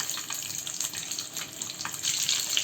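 Stuffed eggs fry in oil on a hot tawa, giving a steady close hiss and light sizzle that runs throughout with no talking.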